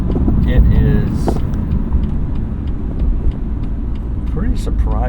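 A BMW M2 engine, tuned for added power, pulls hard under acceleration with a deep, steady, close-up rumble and some wind noise, while someone talks over it.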